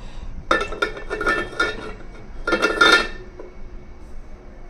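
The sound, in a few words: stirring a pot and covering it with lid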